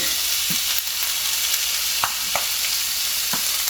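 Olive oil sizzles steadily in a frying pan, a bright hiss running throughout with a few sharp pops and spatters scattered across it, close and fairly loud.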